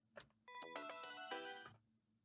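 A phone ringtone from the Steins;Gate video game plays a short bright melodic jingle after a soft click, lasting about a second, clear and isolated with quiet surroundings.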